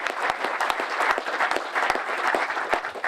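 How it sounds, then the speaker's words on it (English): Audience applause at a grassroots hot-air balloon meet, a steady wash of many hands clapping with sharp individual claps standing out, sustained at moderate loudness throughout. "So can you raise the applause for Noose and Constanza and for Ultra Magic?"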